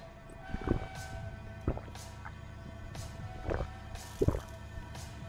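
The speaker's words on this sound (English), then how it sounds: "We're drinking some water." Gulping and drip-like liquid sounds from a character drinking water in the horror game Fears to Fathom, a few soft swallows spaced across several seconds over a low steady background hum.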